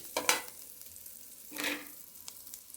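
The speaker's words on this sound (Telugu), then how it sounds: "కాస్త ఫ్రై అయింది. ఇందులో కస్తూరి మెంతి వేసుకుందాం." Masala with kasuri methi fries for a fish curry, giving faint, brief bursts of sizzling and stirring that come and go against quiet.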